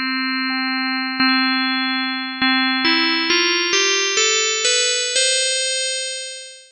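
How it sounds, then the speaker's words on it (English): Sine wave tones from the PHOSPHOR 2 additive synth on an iPad rise in a stepped sequence of clear, pure notes, each struck with a sharp onset and slowly decaying, with no voices over them. "if I pull this one down again, we can hear that this is also just a sine waveform"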